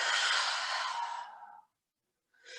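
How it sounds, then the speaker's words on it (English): A long, deep, breathy exhale from a yoga breathing exercise, close and soft, trailing off into silence before another breath begins. "Take one more deep inhale and exhale out."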